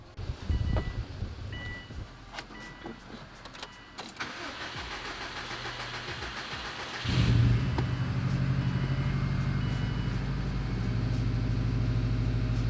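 A Subaru car engine cranks and starts after several seconds of handling clatter, then settles into a loud, steady idle close by, with no talk.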